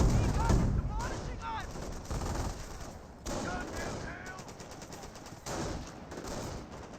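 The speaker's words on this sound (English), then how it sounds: "That's why there's artillery running then." Battle sounds from Company of Heroes 1, a WWII strategy game: repeated gunfire and explosive bursts keep coming amid a dense roar of combat, with several sharp loud onsets spread across the clip.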